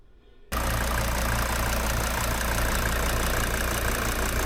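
A Mercedes 410D van's diesel engine starts up after a brief lull and then runs steadily, a loud, close, even rumble with a rough knocking edge and no voices.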